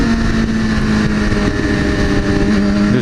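A Porsche rolls past on the road, its engine a loud, steady near rumble with a constant tone, heard without any talk.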